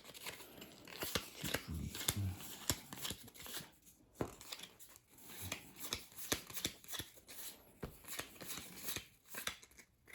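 Cards are dealt one by one for the Heated card game, a run of quick, crisp flicks and slaps at close range with brief pauses between bursts, fairly quiet, no talk.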